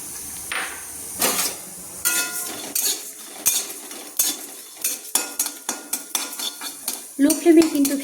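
Dried red chillies, cumin and coriander seeds dry-roasting in a pan over a low flame, stirred with a metal utensil that clinks and scrapes in irregular taps, sharper near the end, with no talk.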